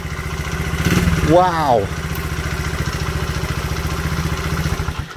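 A 1972 Honda CB125 motorcycle engine idles with a steady, close, putting beat and briefly revs up and back down; someone speaks over it.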